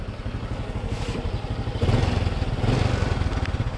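A motorcycle engine runs steadily at idle close by with a rapid pulsing beat, rising briefly as it revs a little louder midway.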